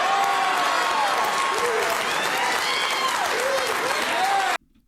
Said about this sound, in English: And the crowd being like, yeah, woohoo, that's so cool.